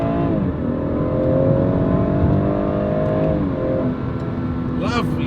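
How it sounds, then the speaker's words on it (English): BMW 440i M Sport engine and exhaust revving with a steady, sustained drone that rises and settles, fairly loud and close, with a brief voice near the end. "it's not fake, it's pure engine and exhaust. The exhaust is not very loud, but it's pure engine noise"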